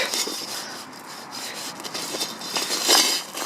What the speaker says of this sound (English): There's a little bit down the edge, so I might just do that next with a bit of the wool again